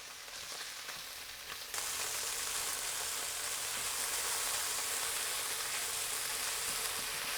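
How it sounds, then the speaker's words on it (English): Pieces of chicken stir-frying over very high heat in a hot pan, Chinese style, with a steady loud sizzle that jumps in intensity partway through and continues densely to the end, no talking. "This Chinese cooking is really high temp, fast cooking, so we don't want to overcrowd the pan."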